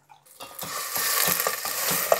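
Bone broth bubbling and hissing in a pot, a steady rolling boil with rhythmic stirring or bubbling pulses, fairly close, no talking.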